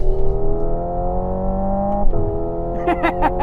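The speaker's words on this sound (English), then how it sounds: "Ferrari has done things differently because it relies on whirs and hums of 4 electric motors" Ferrari Luce electric car with four electric motors, a steady layered whir and hum rising smoothly in pitch as it accelerates, briefly dipping before climbing again, with faint talking near the end.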